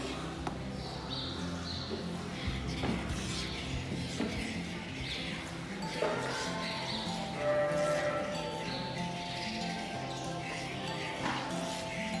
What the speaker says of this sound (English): She is one of our more nervous goats on the milking stand, so she will kick a little bit.